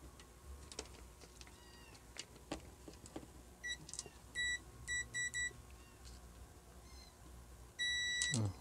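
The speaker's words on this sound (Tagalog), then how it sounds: "Buzzer tayo, buzzer check." A continuity tester's buzzer sounds while checking a burnt flood light resistor: a few short, fairly quiet beeps in a row, then a longer, steadier beep near the end, over low background noise.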